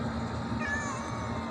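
An orange domestic cat outdoors gives a drawn-out meow over steady background noise, close and fairly loud.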